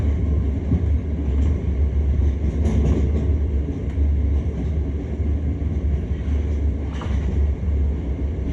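A train runs over junction crossovers on the West London Line near Latchmere Junction. It gives a steady, loud low rumble throughout, with faint clatter and a couple of brief higher rattles as the wheels cross the pointwork.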